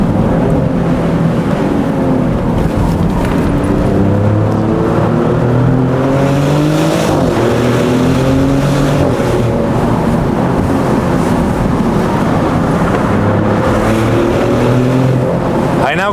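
The engine of a new Maserati GranTurismo drones and revs continuously up close, its pitch rising and falling as it accelerates and eases off, with no pause throughout.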